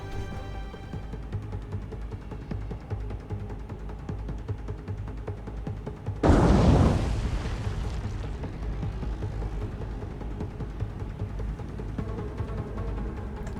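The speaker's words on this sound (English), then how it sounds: "only the 1 torpedo hit there" A torpedo strikes a ship in the naval combat game War on the Sea, set in the Pacific with Japanese navy forces: one sudden heavy boom that rolls off into a lingering rumble over steady engine drone and ambient game noise.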